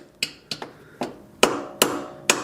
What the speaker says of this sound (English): we'll get the hammer, tap on it gently